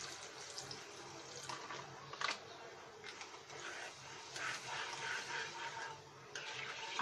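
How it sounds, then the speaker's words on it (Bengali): Milk slowly poured into a pan for chickpea halwa, giving a steady, soft liquid trickle and splash that runs the whole time at moderate closeness, with no talking. "আমরা আস্তে আস্তে দিয়ে দিচ্ছি আমাদের দুধটা।"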